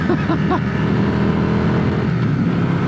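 A small Yamaha Virago 535 cruiser motorcycle runs steadily, its engine note a constant loud drone close by with a brief rise at the start and no speech.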